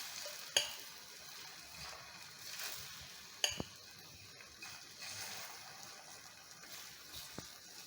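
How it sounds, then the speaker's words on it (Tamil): Egg mixture poured onto an oiled dosa griddle on the stove gives a steady soft sizzle, broken by a couple of sharp clinks of a utensil against the pan. "இப்போ எக் மிக்சர் ஊற்றிக்கலாம்."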